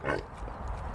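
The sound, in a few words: Tamworth pigs approaching on a smallholding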